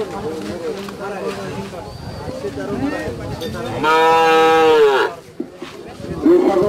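Cattle at a market where a milking cow with calves is up for sale: a single loud, close moo stands out over steady background chatter and other voices of people nearby.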